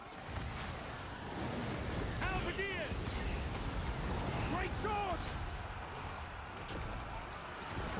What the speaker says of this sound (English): Cannons fire!